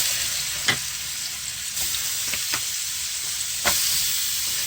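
Ground meat dropped into a hot pan with taco seasoning for Texas smothered potatoes, frying in a steady close sizzle broken by a few sharp stirring scrapes and pops.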